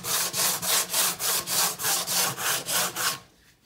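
Rhythmic hand sanding of an LS intake manifold, about eleven even back-and-forth scrapes at a steady pace, close and loud, then the strokes stop.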